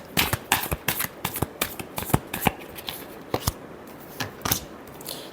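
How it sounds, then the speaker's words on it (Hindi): A deck of tarot cards gets a final shuffle, with a quick run of crisp riffling snaps and flutters up close, fairly quiet and with no talking. "Last shuffle."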